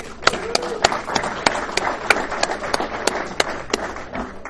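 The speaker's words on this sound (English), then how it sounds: "Give you another round of applause, please." Audience clapping after a talk, loose and uneven with sharp individual claps ringing out at a fairly steady rhythm over a busy room murmur, close and moderately loud.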